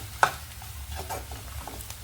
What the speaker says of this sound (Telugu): ఉల్లిపాయలతో పాటు వేగుతుందండి అల్లం వెల్లుల్లి.